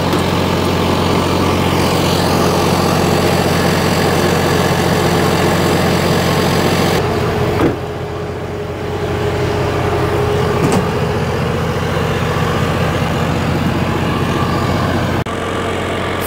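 An MEP 1040 generator engine running steadily, a loud continuous low chugging drone that holds throughout, with a brief dip in level partway through before resuming at full strength.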